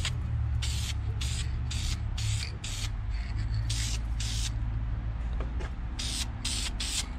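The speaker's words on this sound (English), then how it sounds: "This does spray very thick." VHT wrinkle black paint is sprayed from an aerosol can onto a Honda Civic D16 valve cover in a string of short hissing bursts over a steady low background hum.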